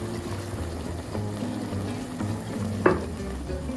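Stock and herb mix is poured into a pan of tomato sauce and stirred in over a low, steady sizzle, with a brief sharper splash near the end; no one speaks.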